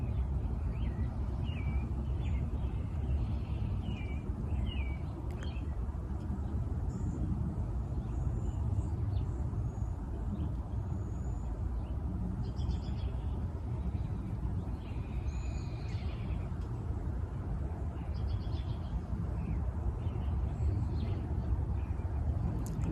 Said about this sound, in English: notice if you can hear any of the bird songs that I'm listening to